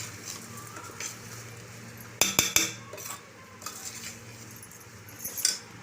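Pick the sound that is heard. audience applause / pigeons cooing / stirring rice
stirring rice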